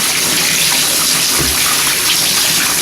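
Wool being rinsed in a basin or tub of water makes a loud, continuous rush of pouring water close by, with a brief low slosh partway through.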